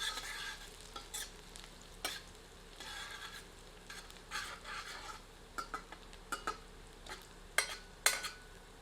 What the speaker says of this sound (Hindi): इन्हें मध्यम आंच पर भूनकर सुनहरा कर लेते हैं।